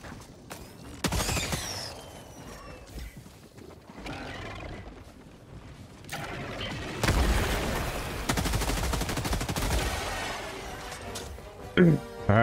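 Gunfire from a weapon in Helldivers 2 cracks out in bursts and rapid volleys, mixed with a loud clattering battle din that rises and falls, with the heaviest stretch in the second half.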